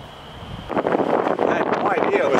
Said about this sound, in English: I had no idea it was supposed to get so windy tonight.